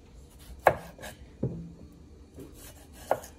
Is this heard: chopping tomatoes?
yes